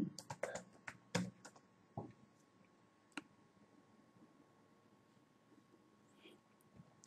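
Typing on a computer keyboard while entering a Google search, with a burst of several quick clicks and taps in the first seconds and then a few scattered keystrokes over a quiet background.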